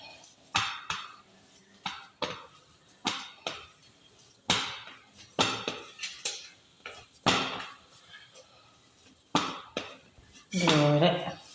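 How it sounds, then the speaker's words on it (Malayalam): A spoon knocking and scraping in a bowl while salt and ingredients for a small snack are mixed, irregular clinks and taps close by, with a voice talking now and then between them. "നല്ലോണം മിക്സ് ചെയ്യാം."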